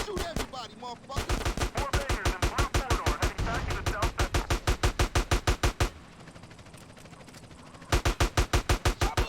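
Rapid automatic gunfire from Grand Theft Auto in Los Santos, loud bursts of evenly spaced shots with a short pause near the six-second mark before firing resumes, while a voice talks over the opening.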